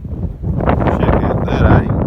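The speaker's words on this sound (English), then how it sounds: "Bit breezy out here, sorry about that." Gusty wind buffets the microphone out in the Australian outback, a steady loud rumbling roar with rising and falling gusts and no clear pauses throughout.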